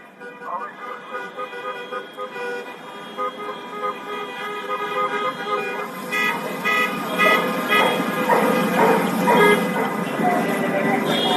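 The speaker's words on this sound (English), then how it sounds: "drivers staged an anti-lockdown protest, honking their car horns around the city hall" Car horns honk continuously from drivers circling city hall in Los Angeles at an anti-lockdown protest, sustained overlapping blasts that grow louder and denser toward the end, with a voice speaking over the din.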